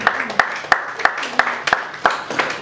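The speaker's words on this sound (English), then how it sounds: "Please one round of applause for them." Applause at a customer reward dinner comes as a short run of evenly spaced claps, about eight sharp beats, with a faint murmur beneath.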